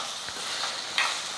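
Chopped onions frying with salt in a pan, a soft steady hiss with faint stirring scrapes, close and brief.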